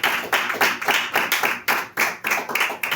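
A church congregation claps together in a rhythmic, loud unison beat, roughly three claps per second, steady and close, acclaiming the Lord during an evening service with no voices over it.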